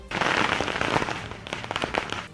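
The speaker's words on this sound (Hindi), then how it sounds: "अहमदाबाद में आतिशबाजी ऐसी हुई कि घंटों तक थमी ही नहीं" Fireworks go off in Ahmedabad to celebrate an election win, a dense, continuous crackle of many small bangs and pops layered over a noisy wash, fairly loud and without a break for a couple of seconds.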